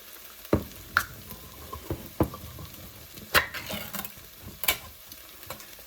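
Crushed tomatoes go into a pot of browned tomato paste and onions, bringing a soft sizzle and a series of sharp spoon knocks and scrapes at irregular intervals, close up and fairly quiet.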